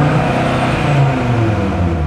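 An Audi RS Q3 with its exhaust flaps held open in Dynamic mode, parked, its engine droning loud and steady in a thick, continuous rumble with no breaks or shifts.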